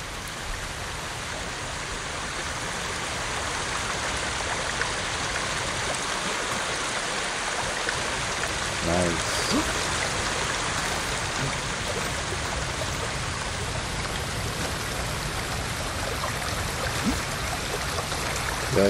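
A waterfall in the video game Ghost of Tsushima pours in a steady, dense wash of rushing water that stays constant throughout, with faint brief clicks now and then.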